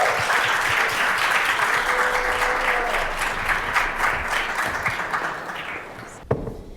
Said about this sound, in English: Let's give a round of applause to Jazz.